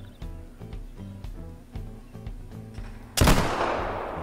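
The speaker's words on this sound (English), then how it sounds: "So we'll pull up and see if we can't take a shot through the trees here." A muzzleloader rifle fires a single loud shot in the hunting game theHunter Call of the Wild, a sharp booming blast with a lingering decay, heard after a stretch of rhythmic background music.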